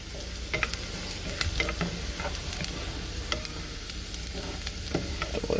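Garlic sizzles in a pan for an Italian vodka sauce, a dense, close hiss with scattered light ticks and scrapes as it is stirred.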